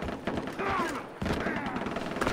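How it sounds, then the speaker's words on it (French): Gunfire in the video game Far Cry 3 crackles in rapid bursts and scattered shots over a dense, noisy game soundscape, with a voice speaking over it. "Il y a des coups de feu."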